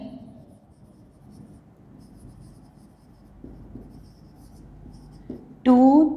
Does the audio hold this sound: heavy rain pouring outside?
no